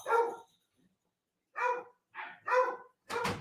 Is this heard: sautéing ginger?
no